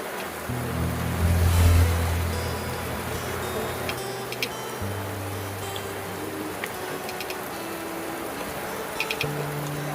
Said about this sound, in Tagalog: Ito ng malakas na ulan dito sa Tingting yung Guwa.